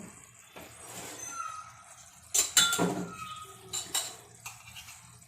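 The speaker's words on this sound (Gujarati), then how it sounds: "આપણે ઘીનો વઘાર કરવા માટે ગેસ ચાલુ કરી એની માટે આપણે કળસી મૂકશું" A small metal pan set down on a gas stove to heat ghee for tempering gives a couple of sharp metallic clinks and clatters against a quiet kitchen background.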